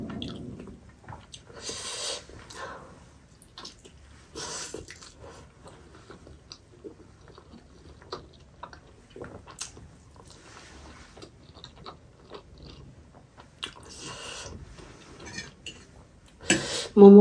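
Chicken momo dumplings dipped in chili oil are bitten and chewed close up, with soft squishy mouth sounds and occasional clinks of cutlery on a plate, scattered through a quiet stretch with no speech.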